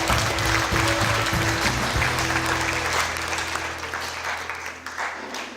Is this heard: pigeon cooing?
no